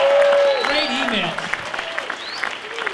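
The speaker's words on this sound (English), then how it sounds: "How about a round of applause for Andrew Themelis picking out these great" A live podcast audience in Phoenix applauds, a broad patter of clapping that rises beneath a voice as he talks over it.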